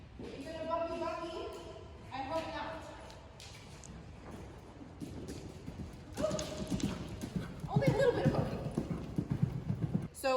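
A polo pony's hooves clip-clop steadily as she is ridden in a warm-up, the rhythmic footfalls close and continuous, with someone talking over them in places.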